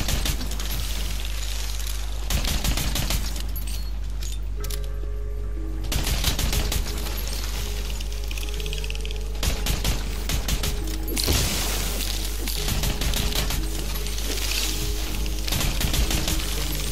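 Rapid bursts of gunfire in the video game Tiny Tina's Wonderlands crackle in loud volleys, pausing briefly between clusters of shots over a steady low rumble.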